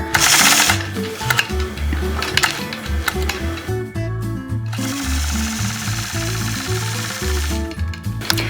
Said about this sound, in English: I'll stitch right across this block